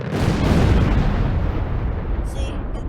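A missile launches in the video game Stormworks with a loud, rushing blast that gradually fades into a lingering roar, heard close and alone.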